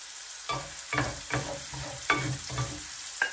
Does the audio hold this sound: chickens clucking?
no